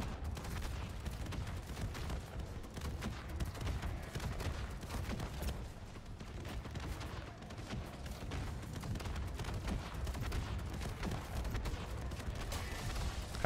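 Sustained rapid gunfire from a gun in MW3 Zombies, a dense continuous stream of shots and booms holding steady at high level for the whole stretch, with no pauses.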